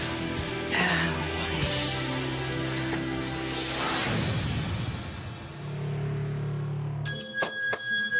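A bell in a busy restaurant kitchen in Lesquin rings twice in quick succession, bright and metallic, near the end. Before it, clattering kitchen noise and background bustle fill the space.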